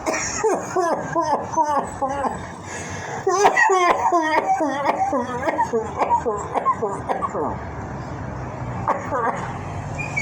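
A rapid series of harsh coughs, sometimes laughter-like, running in bursts under background chatter and noise.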